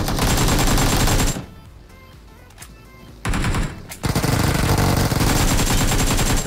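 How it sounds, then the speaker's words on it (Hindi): Automatic gunfire from a PUBG/BGMI battle royale match, loud dense bursts at the start, a short quieter stretch, then sustained heavy firing to the end, no voices. "फायरिंग आ रही थी"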